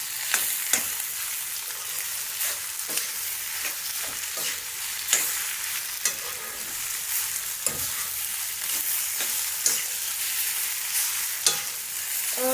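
Mashed green papaya sizzles and fries in a pan over high flame, with a continuous crackling hiss and repeated scraping strokes of a spoon spreading and stirring it, close by and without talk.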